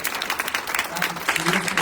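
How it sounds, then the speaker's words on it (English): A brief burst of audience applause for a poet at a poetry reading, close and lively clapping from a crowd filling the room for the whole moment. "a round of applause for Tawanda again"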